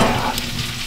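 Dense, steady sizzling of meat frying in a hot pan inside a hot tent while camping, close and fairly loud throughout, with no talking.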